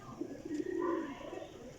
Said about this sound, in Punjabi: ਇਹ ਕਬੂਤਰ ਜੇ